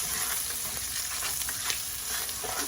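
Shrimp fried rice with chicken is stirred in a hot pan, a steady bright sizzle with light scraping and clicking of the utensil throughout, no talking.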